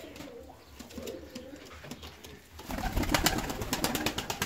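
Fancy ornamental pigeons coo in a loft, soft throaty rolling calls at first, then louder overlapping cooing and fluttering close by.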